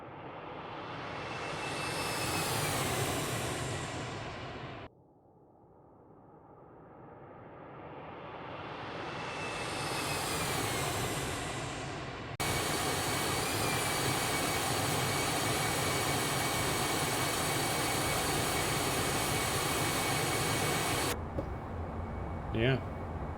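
A Bombardier Challenger 650 jet sweeps past in a flight simulator, its roar swelling and fading twice before a steady loud engine drone holds, then cuts off.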